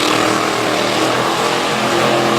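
A monster truck engine roars continuously and loudly as the truck spins a donut on a concrete slab at a monster truck show in Little Valley, New York, with no talk.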